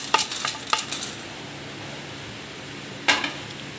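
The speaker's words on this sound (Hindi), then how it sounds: "सबसे पहले डालते हैं हम चने की दाल" Dry chana dal, split chickpeas, is tipped into a large vessel with mixed namkeen snacks, giving a few crisp rattling pours near the start and another short clattering spill near the end, close and fairly loud, with no talk.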